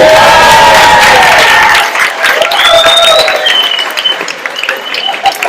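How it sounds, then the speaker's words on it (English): A stand-up comedy crowd breaks into loud, close applause and cheering for a comedian's mother on her birthday, voices calling out over dense clapping before it thins toward the end. "Big round of applause."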